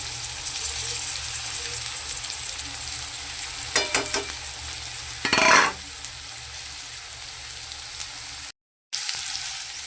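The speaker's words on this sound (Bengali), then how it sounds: "এবার দিয়ে দিচ্ছি এই মশলাগুলো।" Spices tossed into hot oil in a frying pan while cooking a homemade split pea (matar dal) curry: a constant sizzle rising in a few short crackling bursts as they land, with a brief clatter of utensils and no talking.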